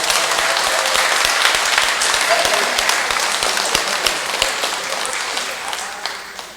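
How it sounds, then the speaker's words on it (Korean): A room of people at a monthly meeting applauds warmly to welcome back a returning member, a dense burst of clapping that gradually thins and fades out. "우리 형제에서 뜨겁게 환영의 박수"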